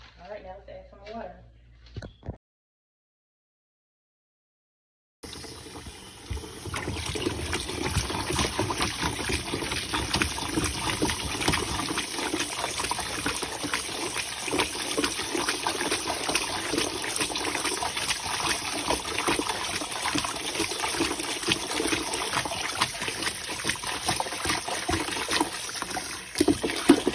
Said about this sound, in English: All right, now let's add some water.